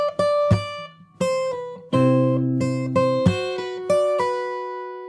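Fingerstyle acoustic guitar plays the opening of a song from the start, with plucked melody notes over bass strings and several percussive slaps, heard close and alone with the notes ringing between strikes.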